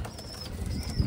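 A Punjabi Malwai pigeon coos close by, with soft wing flaps mixed into the low, murmuring calls over a short stretch.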